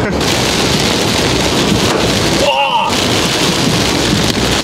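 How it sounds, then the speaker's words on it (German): Heavy rain pours from a supercell thunderstorm near Eindhoven, Netherlands, in a dense, steady roar with wind buffeting the microphone; a brief lull interrupts the downpour partway through. "Wir kommen einfach nicht aus dem Niederschlag heraus"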